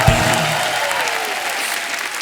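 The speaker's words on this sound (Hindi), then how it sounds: "जोरदार तालियां हो जाएं।" A burst of applause from a crowd, steady clapping that carries on for a couple of seconds with a faint sliding tone over it.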